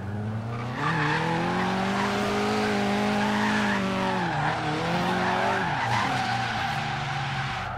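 Tires squealing in a sustained skid after a handbrake turn by a turbocharged Nissan 240SX drift build in Forza Horizon 3, loud and continuous over the engine's high-revving drone, with pitch dipping and rising as the slide is held.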